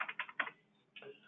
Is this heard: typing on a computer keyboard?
yes